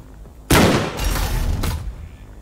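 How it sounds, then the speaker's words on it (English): Gunshots in the video game Rise of Humanity: a sharp, loud blast followed by a sustained burst and a final shot, close and punchy, standing alone without talk. "And I'm gonna lightly shoot him as well."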